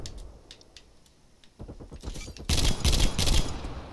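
Gunfire in the video game Call of Duty: Black Ops Cold War, a sparse opening that builds into rapid, loud bursts of shots in the second half.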